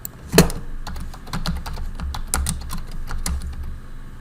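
Keys clatter on a computer keyboard in quick, uneven bursts of close clicks, one louder tap near the start, steady typing throughout with no voices.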